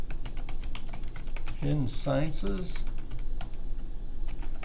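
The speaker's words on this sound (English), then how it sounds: "type in information sciences" Clicks of a computer keyboard being typed on come steadily through the clip, with a person speaking briefly over the keys near the middle.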